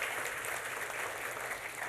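Steady, full audience applause fills a seminar hall, a dense wash of many hands clapping at even loudness throughout the short stretch.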